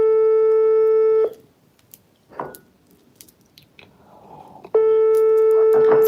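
A telephone ringing while a call waits to be answered: a loud steady electronic ring tone plays, cuts off into a few seconds of quiet rustling and faint background noise, then starts ringing again.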